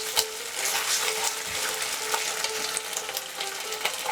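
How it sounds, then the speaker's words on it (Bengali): Fish heads coated in ginger paste sizzle and fry in a pan, a steady crackle over the whole stretch with a few sharper spatters and light scraping of a spatula stirring them. "এবারে এটাকে একটু কষে নেব।"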